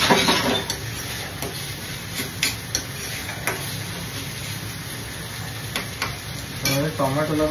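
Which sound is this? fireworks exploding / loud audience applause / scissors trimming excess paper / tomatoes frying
tomatoes frying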